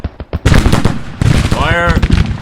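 Musket volleys in Grand Tactician: The Civil War crackle through a Union advance, with dense bursts of overlapping gunfire that build into a sustained rattle, loud and close, with a shouted voice near the end.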